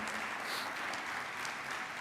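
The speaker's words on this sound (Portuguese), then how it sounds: "Dá um aplauso ao sangue de Jesus, bem forte de todo o seu coração." Dense, steady applause from a church congregation during a service, a continuous wash of clapping that holds at an even, fairly loud level throughout.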